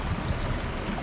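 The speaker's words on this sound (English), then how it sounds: "Little creek. I wonder if that's Cherry Creek." A small creek flows beside a forest road on Cherry Ridge in Idaho, giving a steady broadband wash of running water, moderately loud and continuous, with no voices.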